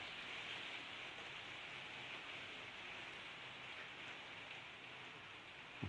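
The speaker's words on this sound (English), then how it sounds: "You might be able to hear it's raining outside." Steady, dense rain falling outdoors, a continuous hiss of drops on surfaces with no voices, even and unbroken throughout.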